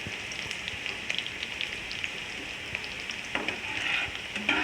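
Steady crackling sizzle of onion tempering frying in hot oil, dense and continuous with scattered sharper pops, close up.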